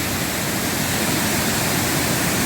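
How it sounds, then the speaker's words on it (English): A waterfall pours over a gorge edge, a steady, loud, broadband roar of rushing water that holds constant throughout with no talk. "That's a lot of water going down there."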